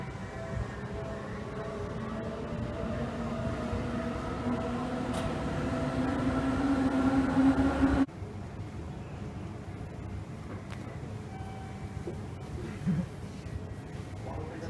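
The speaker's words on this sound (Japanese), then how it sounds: "新所沢駅の発車でございます" An electric train departs from Shin-Tokorozawa station, heard from on board as a low motor hum with a rising whine over steady rumbling, joined by faint announcement-style talk.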